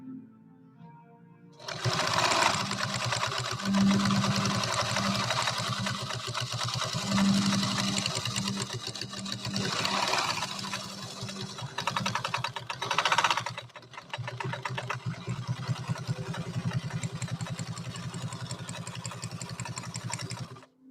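Loud continuous running of an Adler 189A industrial sewing machine sewing leather at a leather show, its motor drone and fast stitching clatter sustained for most of the span, briefly dipping and surging again near the end.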